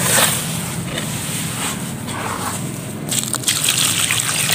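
Water gushes and splashes steadily into a container, a continuous pouring sound that grows slightly louder toward the end.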